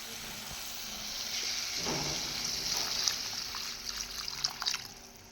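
Water is poured into a frying masala for pabda fish curry, a brief splash and trickle rising over a soft background sizzle, followed by a fainter bubbling hiss and a few small clinks, all fairly quiet.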